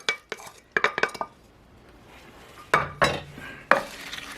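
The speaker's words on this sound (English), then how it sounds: "Stir that up a little bit." A spoon stirs BBQ baked beans with added bacon in a cooking pot, giving a run of close scraping clanks against the metal, then a brief lull before a few more sharp knocks. No one speaks.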